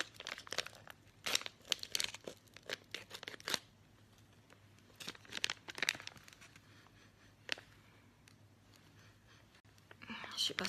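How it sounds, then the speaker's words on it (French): Protein powder sachet being torn open, a series of crinkling, ripping rustles close up and fairly quiet, with soft whispering between bursts. "je vais ouvrir le sachet"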